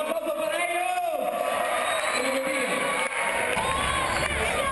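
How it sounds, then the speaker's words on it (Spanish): A crowd claps and cheers for a speaker being introduced on stage, the dense applause and shouting sustained and loud throughout, with a voice talking over it. "¡Un aplauso para"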